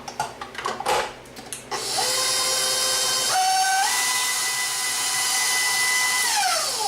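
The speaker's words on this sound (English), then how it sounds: "We're just going to let this stir a little bit longer until it all combines." Electric mixer stirring cookie dough with vanilla for chocolate chip and gingersnap cookies, a steady loud whirring motor hum with rising and shifting whine tones, preceded by a few clattering knocks as the bowl sides are scraped.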